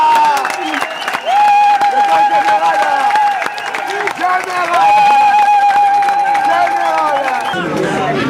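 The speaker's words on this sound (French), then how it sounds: "je vous invite vraiment à vous lever et à l'applaudir" An audience applauds and cheers, with steady loud clapping and crowd noise. An amplified voice speaks over it.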